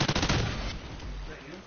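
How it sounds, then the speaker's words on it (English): Rapid automatic gunfire in the video game Call of Duty: Ghosts, a dense burst of close, loud shots at the start that gives way to quieter trailing fire and game noise. "I'm getting shot at"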